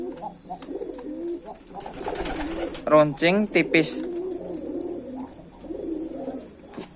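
Pigeons coo in soft, low, throaty rolls, close by, while someone talks over and between the calls.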